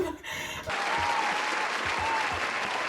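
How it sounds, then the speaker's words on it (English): A burst of crowd applause swells in after a brief moment and holds as a thick, steady wash of clapping that stays loud to the end. "I can applaud for myself"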